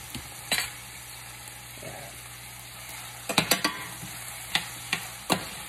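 Vegetables and kelp noodles being stir-fried in a pan, a low steady sizzle beneath a handful of sharp scraping stirs and utensil knocks, close and clear.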